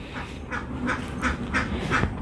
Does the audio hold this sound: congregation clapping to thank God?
no